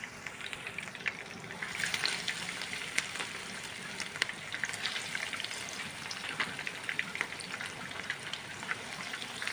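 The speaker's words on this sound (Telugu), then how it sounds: "ఆయిల్ హీట్ ఎక్కింది ఫ్రెండ్స్. ఇప్పుడు ఫిష్ అనేది వేసేసుకుందాం." Fish fries in hot oil over a high flame, giving a steady, fairly faint hiss with fine crackling pops throughout and no voices.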